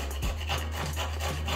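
Whole nutmeg rubbed against a grater for a sweet potato pudding, a steady rasping scrape with a low background hum, faint and close.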